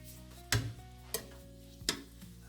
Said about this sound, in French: Donc les oignons commencent à chanter